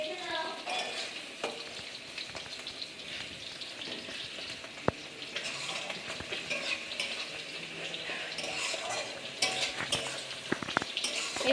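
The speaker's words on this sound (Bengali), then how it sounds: "এদিকে দেখতে পাচ্ছ মাছের তেল হয়ে গেছে, মাছ ভাজা হচ্ছে" Fish frying in hot oil in a pan, a steady broadband sizzle running continuously throughout, with occasional clinks of utensils against the cookware.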